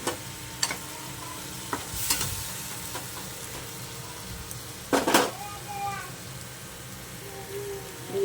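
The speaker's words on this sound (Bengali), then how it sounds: "এর মধ্যে আমি এবারে নারকেল বাটাটা দিয়ে দেবো।" Coconut paste goes into spices sizzling in a pan while cooking a Bengali vegetarian banana-flower dish, giving a low steady sizzle with a few sharp clinks and scrapes of a utensil, close up.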